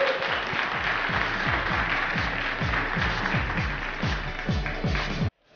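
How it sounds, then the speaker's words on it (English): A crowd at the IESF 2015 StarCraft 2 Invitational in Seoul claps for the players after an Archon match, dense, steady applause lasting about five seconds before cutting off abruptly. "Can we get some applause for these guys?"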